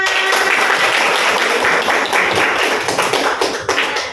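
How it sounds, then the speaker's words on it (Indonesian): A class of eighth-grade junior high students applauds, a dense, steady wash of clapping that stays loud and even throughout before easing slightly at the end. "Beri aplaus untuk kita semua"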